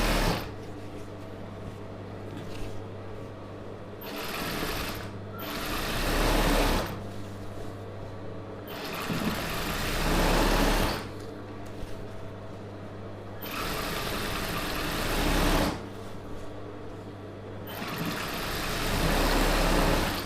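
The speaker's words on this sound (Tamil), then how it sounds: "அப்படியே ஸ்ட்ரைட்டாக வச்சு ஒரு தையல் வச்சுக்கோங்க" Electric sewing machine stitching a straight line along a folded one-inch Patiala pant hem, running in loud steady whirring bursts separated by short pauses, close up and alone.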